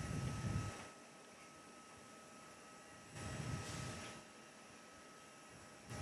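A Thai Airways airliner taxiing at Perth Airport, heard from a distance as a steady faint engine whine and rumble with slight swells in loudness.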